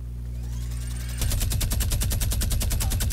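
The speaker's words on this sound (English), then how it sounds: "Yo, Ant, use that minigun on everything" Minigun firing in the Fortnite Battle Royale game, a rapid rhythmic burst of shots starting after a second of rising spin-up whir, loud and close without speech.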